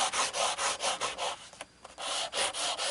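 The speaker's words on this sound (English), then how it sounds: "you really want to make sure that you're pressing firmly and you're rubbing" A hand rubs firmly over the back of a mirror in steady, rhythmic scrubbing strokes, close and fairly loud, with a brief pause midway before the rubbing resumes.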